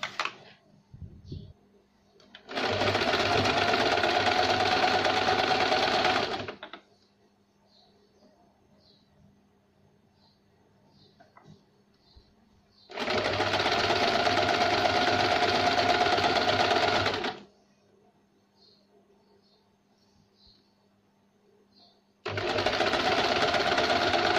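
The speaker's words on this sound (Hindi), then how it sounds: "इस तरह से हम पूरी तरह सिलाई लगाएंगे।" A sewing machine stitches a velvet princess-cut blouse in three separate runs of rapid, even whirring, each about four seconds long, with quiet pauses between them holding faint handling noises and distant bird chirps.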